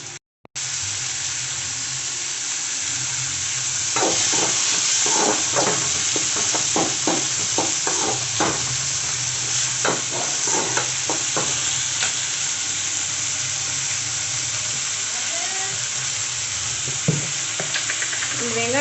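Onions and tomatoes sauté in a pan for a cauliflower kurma gravy, a steady close sizzle with repeated scraping stirs of a spoon against the pan, and a few louder clinks near the end.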